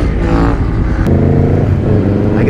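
Motorcycle engine revving steadily and loud as a rider pulls a wheelie at a bike night, a continuous rumble with a rising surge near the end.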